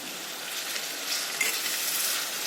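Spice masala fries over a gas flame turned up full, a soft, even sizzle holding steady close by with one small pop partway through and no voices.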